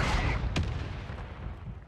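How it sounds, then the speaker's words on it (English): A mortar strike in Call of Duty Warzone lands as one sharp, loud blast with a rumbling tail that fades over the next second. "I put a mortar on the shack."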